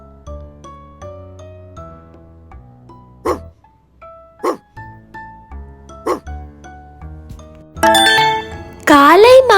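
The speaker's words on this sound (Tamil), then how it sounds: "நாய்" Several short, sharp dog barks spaced apart over a soft musical backing, followed by louder yelping bursts at the end.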